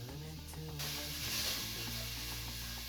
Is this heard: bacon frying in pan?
yes